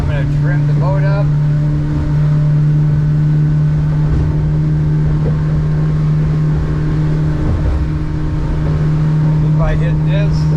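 Twin F200 outboard motors on a 270 Alaskan Hewescraft boat hold a loud, steady engine drone throughout, with a voice briefly heard over it.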